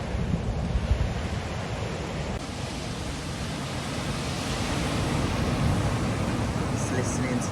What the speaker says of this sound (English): Just listening to the waves.